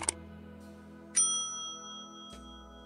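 A notification bell chime sounds three times, each a bright ding with a long, ringing tail fading away, with no voices.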